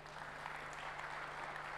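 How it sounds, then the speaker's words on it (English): Brief, faint audience applause at a business school session during a festival, a distant steady patter under a constant low hum. "Let's give him a round of applause."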